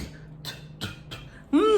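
A voice imitates coughing and spitting in a few short, breathy bursts, each a rough exhale, ending in a louder hawking, throaty sound.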